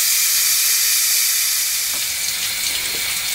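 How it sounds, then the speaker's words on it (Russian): Keta fish fries in a pan with a loud, steady hiss and sizzle of hot oil, close and continuous, with a few brief pops near the end. "Рыбка жарится."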